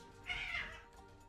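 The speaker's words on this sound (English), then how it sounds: "leave the cat alone" A cat lets out a single short, clear meow close by, alone with only faint background hum.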